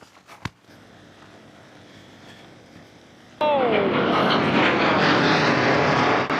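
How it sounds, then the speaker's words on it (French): A fighter jet roars overhead near a boat launch, its sudden loud, broad engine rush cutting in after a quiet start and holding steady, with a descending whine sweeping through it. "Avion de chasse"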